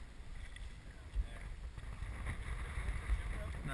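A canoe is paddled on choppy water at Bay Head the day after Hurricane Sandy: uneven low splashing and rushing strokes under heavy wind buffeting, with faint voices in the background.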